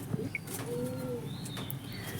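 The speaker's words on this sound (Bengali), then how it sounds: "আমার সব পায়রা এই ঘরেই থাকে," Pigeons kept in an indoor room coo softly with a few brief chirps and faint rustling, quiet and intimate against low background hum.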